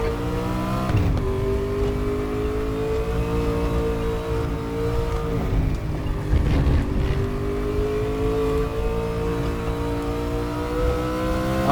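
RaceRoom Racing race car engine held at full throttle, a loud steady high-pitched whine with shifting harmonics and brief gear-change dips, continuing unbroken for the whole stretch with no voices.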